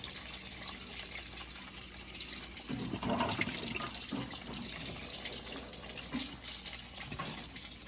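Water and air gurgle and splash out of a car's cooling line during a flush on a turbocharged Mustang, a continuous running-water hiss with bubbly bursts and spurts, fairly faint and close.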